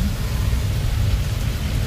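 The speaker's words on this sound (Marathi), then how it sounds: "सकाळ सकाळ आज खूप जोरात पाऊस पडतोय." Heavy rain pours down in a dense, constant roar with no pauses or voices.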